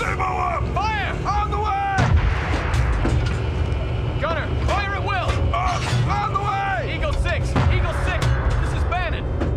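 Artillery and gunfire from the real-time strategy game World in Conflict rumble in repeated booms beneath busy battle effects, while voices bark radio-style orders throughout.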